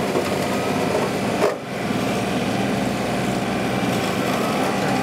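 A tractor with a loader-mounted rotary cutter trims tree limbs, giving a loud, continuous buzzing engine and blade drone with a brief dip partway through, no speech.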